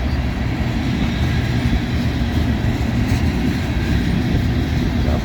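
A train rolling past a trackside spot in Ohio, a steady, loud, continuous rumble with a broad rushing roar held evenly throughout, no voices.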